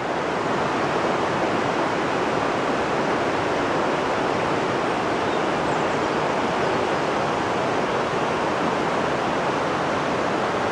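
A river flows in a steady, dense rush with an unbroken broadband wash of water that stays loud and even throughout, with no voices.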